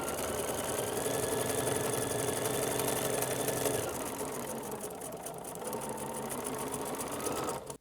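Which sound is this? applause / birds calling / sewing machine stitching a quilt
sewing machine stitching a quilt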